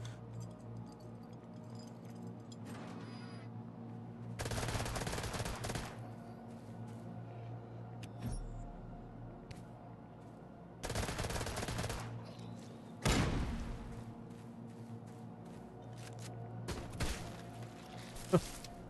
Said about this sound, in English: Shotgun works on leechers. Confirmed.